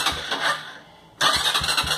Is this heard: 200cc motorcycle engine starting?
yes